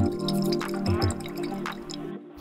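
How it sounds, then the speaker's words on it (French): Oil pours over salted shawarma meat, close and wet with trickling, dripping splashes in uneven bursts, then a brief pause before the sound resumes. "Versez de l'huile dessus."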